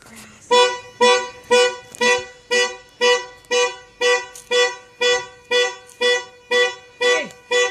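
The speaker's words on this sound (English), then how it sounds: "Your alarm's going off." A car alarm blares in a steady repeating pattern of loud, evenly spaced honking tones, about a dozen pulses running one after another with no talking over them.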